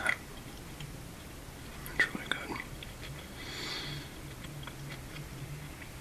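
Japanese fruit-snack candy with a sugar coating is bitten and chewed close to the mic, giving a crisp snap and soft, moist chewing over a quiet steady hiss, with no talking.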